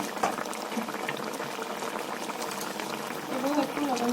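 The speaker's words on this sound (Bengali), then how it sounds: "বন্ধুরা আমি এখানে জল দিয়ে দিচ্ছি" Water goes into a cooking pot, giving a continuous bubbling, gurgling liquid sound close by, with a faint voice underneath.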